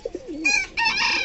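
Young fantail pigeons coo close by while begging for food from a hand, giving soft throaty warbling calls with a couple of short notes and then two longer overlapping coos.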